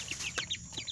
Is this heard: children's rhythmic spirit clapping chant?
no